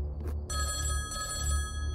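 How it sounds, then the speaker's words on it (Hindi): A telephone bell rings inside a horror hospital video game, steady sustained ringing with a bright, even tone that carries on continuously over a low background hum. "ओए फ़ोन की घंटी बज रही है, फ़ोन आ गया।"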